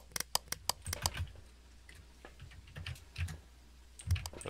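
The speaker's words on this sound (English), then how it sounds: "What are you always slamming on your keyboard, man?" Someone hammers rapidly on a computer keyboard during a Phasmophobia game session, with sharp irregular clicks and clusters of keystrokes close and fairly quiet over several seconds.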